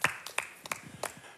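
A handful of sparse, scattered hand claps from a television studio audience after a singer's performance, faint and thin rather than a full ovation.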